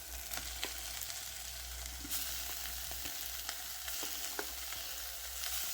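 Meat frying with onions in a pan for a gluten-free pork spaghetti bolognese, a steady close sizzle with scattered sharp crackles and pops throughout.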